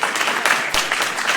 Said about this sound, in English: So if you could give yourselves a round of applause